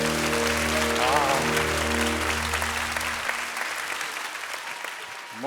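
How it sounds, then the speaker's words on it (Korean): Sustained audience applause in a Korean TV broadcast studio, dense and steady clapping over a low musical tone that cuts off midway, with the clapping fading gradually toward the end. "박수 한번 주시죠"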